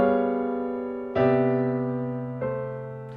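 Three piano chords struck one after another and left ringing, a 2 chord passing to a 5 chord with the F held as a common tone, close and clean with no talking.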